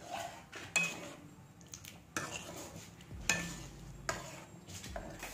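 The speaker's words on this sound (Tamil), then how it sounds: "நம்ம ஊற்றிட்டு உடனே வந்து கிண்டிடணும், ஏன்னா நம்ம கடல மாவு சேர்க்குறோம்" Spoon stirring sambar with gram flour in a pot, soft scraping sweeps punctuated by several sharp metallic clinks against the pot, fairly quiet and close.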